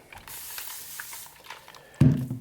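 A spray bottle hisses out a fine mist onto a paper towel while leather is being worked. A short soft spray is followed by a louder, lower burst near the end.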